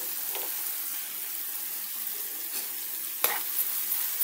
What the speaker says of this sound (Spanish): lo vamos a seguir sofriendo con los vegetales que tenemos ahí ya presentados en el video